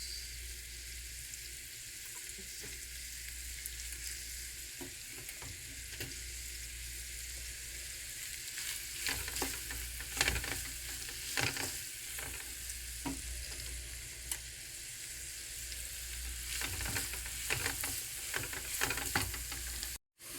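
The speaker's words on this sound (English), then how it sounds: "Now I'm going to go ahead and add my rice" Egg fried rice sizzling and frying in a pan, with a steady hiss throughout and repeated scraping, clattering stirs that grow busier in the second half; no talking.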